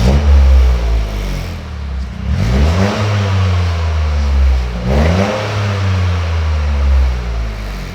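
A 2024 Toyota GR Corolla on its stock exhaust revs up close, with two or three throttle blips rising and falling over a steady low engine drone, and no voices heard.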